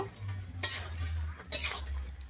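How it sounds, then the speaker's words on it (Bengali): Fried prawns sautéed with potol and potato in a pan, giving soft stirring scrapes and a low sizzle with two brief clatters of a spatula against the pan, close and fairly quiet. "দিয়ে কিন্তু আমি আবারও কিন্তু 1 মিনিটের মতো এখানে কষিয়ে নেব।"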